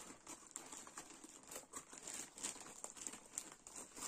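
Plastic packaging of a Newhomy diamond painting kit crinkles and rustles as it is opened, with a quick run of close, faint crackles and crumples.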